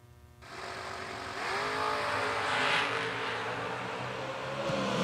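An IROC Z drag race car launching down the track, its engine roaring up through the gears with a rising whine, loud and sustained, heard without speech.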